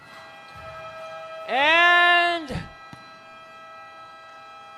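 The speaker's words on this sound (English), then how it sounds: "that's the sound of the halftime buzzer" A loud sustained electronic buzzer sounds for about a second at halftime of a women's basketball league game, Philippine Army versus Philippine Navy, over steady arena hum, followed by a brief clatter and a commentator's single word.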